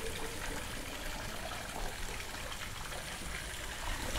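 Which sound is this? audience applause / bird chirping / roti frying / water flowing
water flowing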